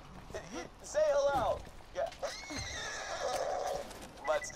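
A horse in the video game Borderlands 2 whinnies loudly and close, with rising and falling neighs and some hoof clip-clop, while a player's voice talks around it.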